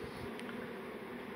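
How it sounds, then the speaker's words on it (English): Honeybees hum in a low, steady drone during a beehive relocation from a chimney, a faint continuous buzz on a grey, breezy day. "we've got this nice long string of bees heading into the nuke to rejoin the queen"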